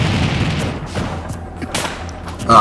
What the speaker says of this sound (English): The Firecracker is such a powerful attack.